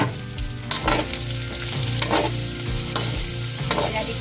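Onion and garlic sauté in a pan for a shrimp paste and pork dish, with a loud, constant sizzle and rhythmic spatula scrapes about once a second, close and clear.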